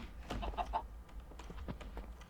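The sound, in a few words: chickens clucking in Minecraft video game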